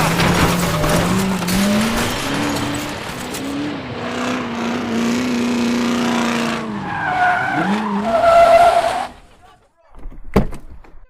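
A taxi pulls up with a long, loud tire skid and engine noise lasting several seconds, followed by a car door and a couple of sharp knocks in a quieter tail, with a voice heard under the noise.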